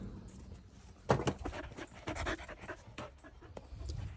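A dog pants close by in quick, steady breaths, the rhythm growing louder and more ragged for a few seconds before settling again, with no talking over it.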